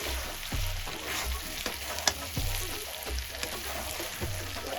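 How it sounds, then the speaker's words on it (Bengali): Spice masala frying in a pan, a steady close sizzle running throughout with intermittent scraping stir strokes and small clinks of a utensil against the pan. "মশলাটা অনেকটাই একদম ভাজা ভাজা হয়ে গেছে"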